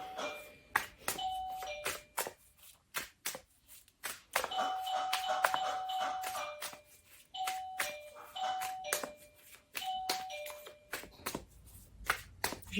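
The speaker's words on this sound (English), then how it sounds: "Learning to use his little doorbell when he needs to go out." A small dog's doorbell chimes repeatedly, with bursts of two-tone ding-dong notes and quick tinkling rings coming in clusters, fairly close and clear with short pauses between sets.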